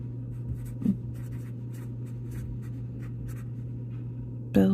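A pencil scratching across paper while filling in a budget calendar, soft intermittent strokes in short bursts over a steady low electrical hum, close and quiet.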